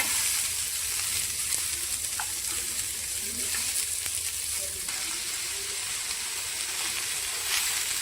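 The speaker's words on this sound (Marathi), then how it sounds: "त्यानंतर कांदा चांगला फ्राय करून घेऊया।" Onion frying in hot oil for a mutton curry sizzles in a steady, bright, continuous hiss with faint stirring noises, close and constant throughout.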